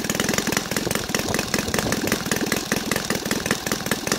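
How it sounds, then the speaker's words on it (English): A Saito FA270T model engine converted to run on gas idles steadily with a rapid, even chugging pulse. It is loud and close throughout, with no talk over it. "Right now, I let it to idle a little bit."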